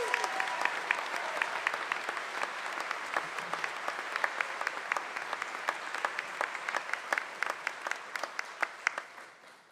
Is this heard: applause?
yes